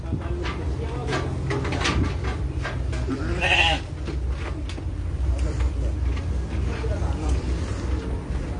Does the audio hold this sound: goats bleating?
yes